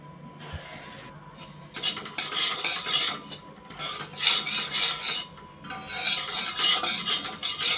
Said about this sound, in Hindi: अब हम भूनेंगे तिल।